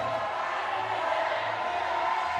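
A home crowd at a European Cup bouldering competition in Loverval, Belgium, cheers with a steady, loud wash of noise that holds without a break.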